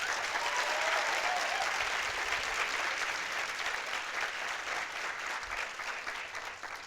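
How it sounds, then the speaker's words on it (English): A crowd of teens at a town hall event fills the room with continuous, dense applause that holds strongly and then tapers slightly toward the end, with no talking over it. "So give yourselves a round of applause."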